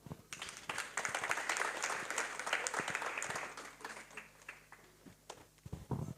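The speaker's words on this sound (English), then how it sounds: "Can we give them a round of applause as they go back to their seats?" Audience at a book launch applauding panelists returning to their seats, a lively burst of many hands clapping that swells, then tapers into scattered claps near the end.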